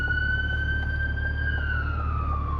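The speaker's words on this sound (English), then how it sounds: "We're gonna let this ambulance, this fire truck pass" An emergency siren from a passing ambulance and fire truck holds a steady wail that slides downward in pitch as it moves off, heard over the low rumble of an idling 2024 Chevy Corvette C8 interior.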